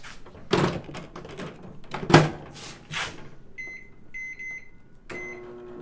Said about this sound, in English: And we throw them in the microwave.